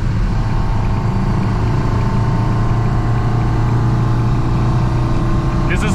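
A 1965 Volvo Amazon 122S engine held at full throttle, its carburetors drawing hard in a steady, loud drone heard from inside the car with no gear changes.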